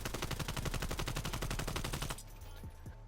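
An AK-74U fires a rapid full-auto burst at a distant wall in Call of Duty: Cold War. The dense run of shots lasts about two seconds, then stops abruptly into quieter game ambience.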